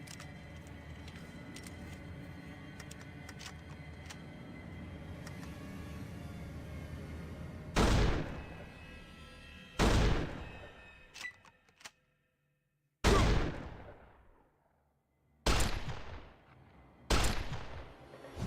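Gunfire in the video game Fallout 2. After a stretch of low background ambience, several loud separate shots ring out about two seconds apart, each with a sharp crack and a fading tail, and silence falls between some of them.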